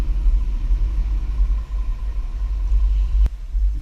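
A 2024 Mitsubishi Outlander carrying a Swagman XTC2 Tilt two-bike rack drives a slalom on a test course. A steady, loud low road rumble fills the cabin, with one faint click near the end.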